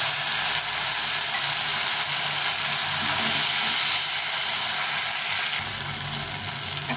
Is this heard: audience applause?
no